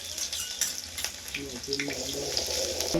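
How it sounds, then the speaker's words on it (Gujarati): Onions fry in hot oil, a close, continuous crackling sizzle that holds steady throughout, with a few brief tonal sounds rising over it partway through. "જો આપણે તેલ ગરમ થઈ ગયું, આ જો અમે ડુંગળી નાખી દીધી"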